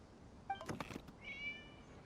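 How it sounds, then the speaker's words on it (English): A cat meows in a video game during an Inazuma event, two short, clear mewing calls about a second apart, with no other sounds around them. "It was just a cat."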